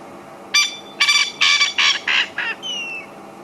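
At sunset in the African bush, a bird gives a run of six or seven harsh, evenly spaced calls. They grow slightly weaker toward the end and finish with a thinner drawn-out note, carrying clearly over a quiet background.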